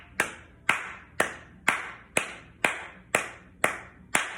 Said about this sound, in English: it helps just to do like a clap of the hands